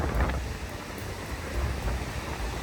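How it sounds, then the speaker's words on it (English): Adriatic Sea waves lap against a sparse shoreline at Durres, Albania, making a constant close wash of broadband surf. Gentle surges and wind buffeting on the microphone run through it, and no one speaks. "as the waves of the Adriatic lap in"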